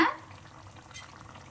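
Spicy Chettinad crab gravy bubbles and fries in a pan as it is stirred, a soft low sizzle with light scraping after a brief louder knock at the start, no talk.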